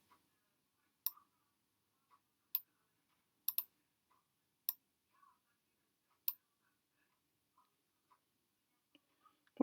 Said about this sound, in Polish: klikam w obrazek, łapiąc narożnik, zmniejszam wielkość obrazka